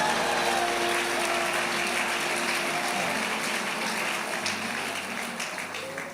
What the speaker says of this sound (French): Acclamez pour vous-même.